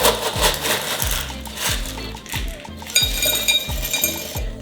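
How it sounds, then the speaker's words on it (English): Gravel poured into a terrarium container makes a rattling, clinking rush of small stones, with repeated low thuds in a loose rhythm and brighter clatter toward the end, close and fairly loud with no voices. "Next, I'm going to add about 1 inch thick of gravel."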